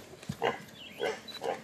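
A pig in Vanuatu grunts three times in short, rough bursts, each a low snorting grunt, fairly close and alone over a quiet outdoor background.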